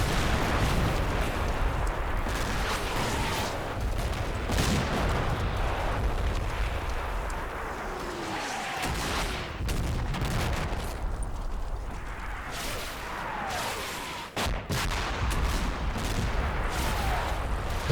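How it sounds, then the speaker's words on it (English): An artillery barrage in the Combat Mission video game, set during Operation Epsom, rumbles as a continuous roll of booming detonations and crackling gunfire, with dense blasts overlapping throughout and no clear gaps. "The barrage is close, and I do suffer some friendly casualties"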